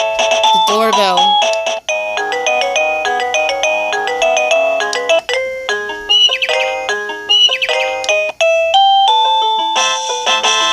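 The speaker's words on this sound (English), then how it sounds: "The doorbell." Wireless doorbell playing a sequence of bright electronic chime tunes, each melody ringing clearly and loudly, then stopping briefly before the next ringtone begins.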